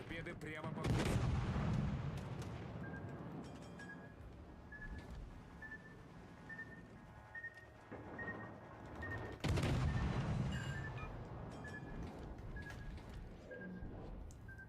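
Warship guns boom in the World of Warships Legends game, heavy artillery blasts recurring through the stretch with rumbling tails, loud and close, and faint talk beneath.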